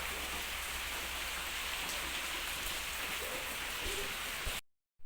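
Steady rain falling outdoors, a dense even hiss of drops on surfaces continuing without a break before cutting off abruptly at the end.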